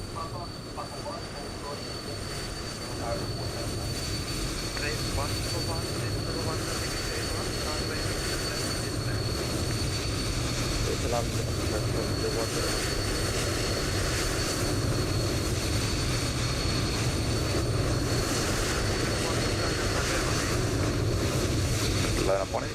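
A Qantas Airbus A380 in Microsoft Flight Simulator 2020 flies high overhead, producing a steady simulated jet drone with faint whining tones throughout, while a voice talks over it.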